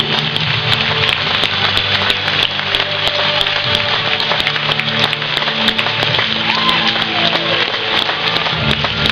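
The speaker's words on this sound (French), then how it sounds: "On peut les applaudir." Audience applause at the 2013 French Country and Line dance championship awards, a dense, loud wash of clapping that holds steady for about nine seconds with no voices over it.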